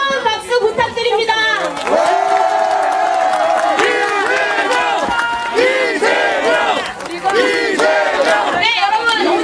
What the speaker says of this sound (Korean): 여러분, 함께 한다는 마음으로 다시 한번 뜨거운 박수 부탁드립니다.